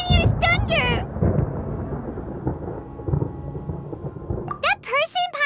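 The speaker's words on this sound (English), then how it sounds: "Paimon hears thunder!" Thunder in the video game Genshin Impact rolls as a long, loud rumble that swells and fades, with bright synthetic chimes ringing out just before and after it.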